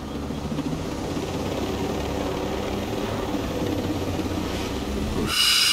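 Helicopter in the video game Ghost Recon Breakpoint, a steady loud rotor and engine drone that fills the clip without any talk, with a brighter hiss swelling in near the end.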